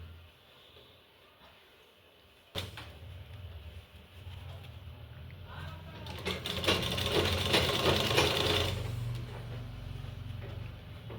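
A sewing machine stitches satin fabric for a scrunchie with a steady mechanical whirr. It starts abruptly and grows louder and denser in the middle run, then settles into a lower hum, with no voices heard.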